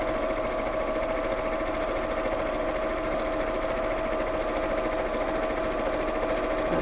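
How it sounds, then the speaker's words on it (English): Sewing machine stitching quilted fabric layers with wadding for a small quilted scissor keeper: a steady, continuous mechanical hum and whir running unbroken throughout, close and fairly loud. "I'm going to sew around both sides of the point of the heart."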